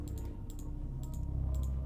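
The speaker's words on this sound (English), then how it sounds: "so I'm left clicking." Computer mouse left-clicking while playing a dark exploration game, a few brief light clicks in quick bursts over a steady low hum of game sound.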